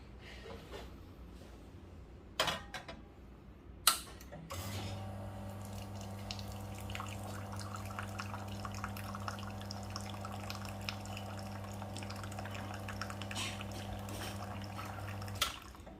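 A Nook Mini Duo espresso machine flushes water through its group head, starting with a few sharp clicks and clunks before a steady pump hum and water stream run evenly for about eleven seconds, then stop abruptly; the sound is faint and close.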